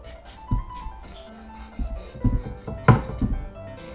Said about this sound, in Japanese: 表と同じように包丁を入れていきます。